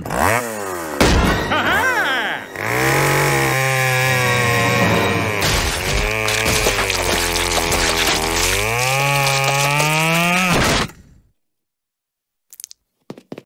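A chainsaw in a Roblox game roars loudly and steadily for about ten seconds, its pitch rising and falling as it revs, then cuts off abruptly into near silence with a few faint clicks.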